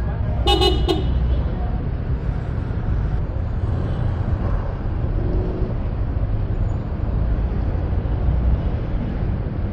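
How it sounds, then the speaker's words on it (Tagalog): A quick honk of a car horn sounds near the start, then a vehicle's engine and road noise keep a steady rumbling drone. "Lakas ng busina."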